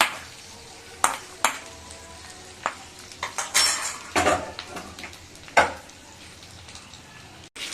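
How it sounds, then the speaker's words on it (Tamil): Sweet pongal with ghee-fried cashews being stirred in a cooking pot: intermittent metallic scrapes and clanks of a spoon against the pot, with a few sharper knocks, close up and with no talking. "பொங்கலோட சேர்த்து நல்லா கிண்டி எடுத்துடலாம்"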